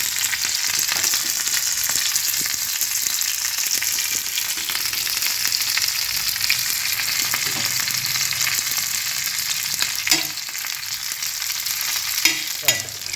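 Rava-coated fish, Mangalore style, fries in a pan with a steady, close, hissing sizzle that runs throughout, broken by a few soft clicks and scrapes of a utensil near the end.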